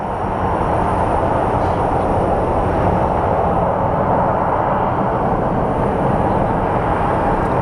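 A Delta Boeing 757 airliner during pushback on the ramp at Phoenix Sky Harbor, a loud continuous broadband jet roar with a low rumble, heard up close and unchanging, with no voices.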